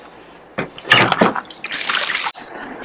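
An RV black water tank drains through a hose in loud gurgling liquid surges. A short burst comes first, a brief lull follows, then a longer rushing gush that cuts off abruptly, with no talk.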